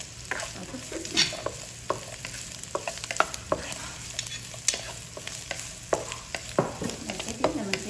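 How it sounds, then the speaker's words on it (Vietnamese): Diced sausage is stir-fried with garlic and onion for Yangzhou fried rice, a steady close sizzle broken by frequent clattering scrapes of a spatula against the pan. "mình sẽ cho nó vô lại cho nó thơm hành, thơm tỏi nè. Rồi xúc xích nè."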